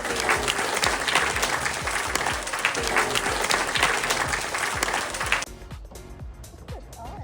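A group of people clapping together on an outdoor tour in Australia, fairly close and loud, with sharp claps running for about five seconds before cutting off abruptly into quieter outdoor ambience.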